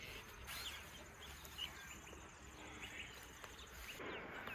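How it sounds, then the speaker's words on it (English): A grey shrike thrush calls in a garden bed where new plantings have just been set in and mulched, its short clear notes rising over a steady outdoor background hiss. "Grey shrike thrush."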